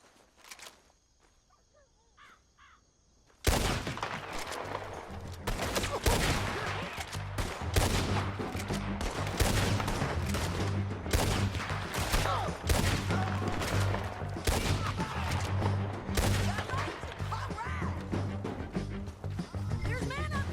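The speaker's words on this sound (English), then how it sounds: "Let's just start shooting." Rapid gunfire fills a Red Dead Redemption 2 shootout after a quiet start, with dense overlapping shots, volleys and impacts continuing loudly throughout, while voices talk over the fighting.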